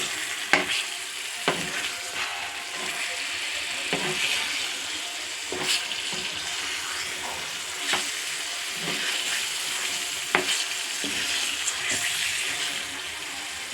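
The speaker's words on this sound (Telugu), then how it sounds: "ఇప్పుడు ఫ్రై చేసుకున్న గుడ్లను కర్రీలో వేసి కొంచెం సేపు మగ్గనిద్దాం." Fried eggs simmering in a masala curry give a steady, close sizzle and bubbling, with soft clicks and stirring taps scattered throughout.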